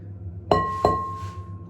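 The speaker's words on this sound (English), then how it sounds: "We need to crack the eggs." Two sharp cracks of eggshell struck against a glass bowl in a home kitchen, about a third of a second apart, close and clear, each leaving a brief glassy ring over a low background hum.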